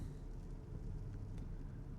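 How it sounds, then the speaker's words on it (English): Road traffic rumbles steadily at a distance, a low, faint wash of passing car noise with no talking. "It's just random traffic."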